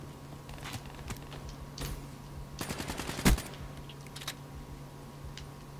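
Call of Duty: Black Ops 3 multiplayer gunfire on the Aquarium map: scattered single shots, then a rapid automatic burst with one sharp loud crack, fairly quiet against a low background hum.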